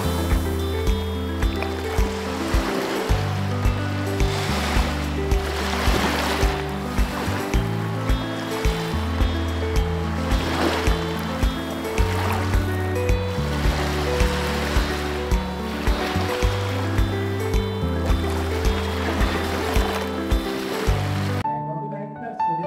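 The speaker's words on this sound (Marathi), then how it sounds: "समुद्रावरची वाळू आणि या फेसाळणाऱ्या लाटा मस्त चमकत आहेत." Ocean waves roll and wash onto the sand at Velneshwar Beach on the Konkan coast, a steady, loud surf roar with repeated swells, while a background melody plays underneath throughout.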